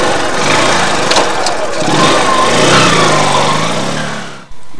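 A motorbike engine runs steadily close by, a loud buzzing drone with slight revving, before cutting off abruptly near the end.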